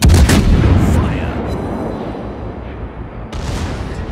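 Naval ship guns fire in a video game: a loud boom bursts at the start, then a rumbling tail slowly fades, with a second sharper report near the end.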